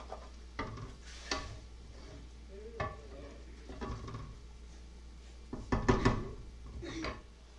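Blended tomato goes into onions frying in a pan for a fish curry, giving a steady sizzle broken by several louder bursts and stirring scrapes, the biggest flare near the end as the purée hits the hot oil.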